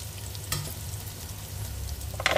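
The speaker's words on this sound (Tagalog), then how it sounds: "ginisa na natin ang onion para sa dahon natin" Onion sautéing in a pan for a leafy green vegetable dish, a steady close sizzle with a few stirring scrapes, one near the start and another near the end, and no talking.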